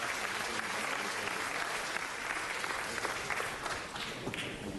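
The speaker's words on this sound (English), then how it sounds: "Give them another round of applause." Audience applause in a city council chamber for neighborhood award recipients: thick, sustained clapping from a crowd, steady and fairly loud throughout, with faint voices mixed underneath.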